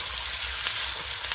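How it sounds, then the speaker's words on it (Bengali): Meat curry with potatoes sizzling in a pan as coriander leaves are stirred in, a steady close frying hiss with faint scraping from the stirring and no talk. "এইবার আমি ধনে পাতাটা দিয়ে দেব, দিয়ে ভালো করে নাড়াচাড়া করে নেব।"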